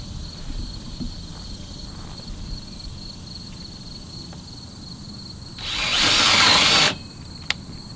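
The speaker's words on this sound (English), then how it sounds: "drill through the board and then through the hoop, just as we did on the baseboards" A power drill bores through a wooden board and hoop, a loud whirring burst of just over a second that stands out above a low, steady background murmur.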